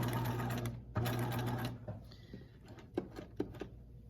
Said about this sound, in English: Okay, so there's your first row of stitching.